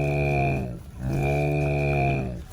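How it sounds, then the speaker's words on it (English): A cow moos twice in long, deep, droning calls, loud and close, with a short pause between them and no talk. "I think this is a cow."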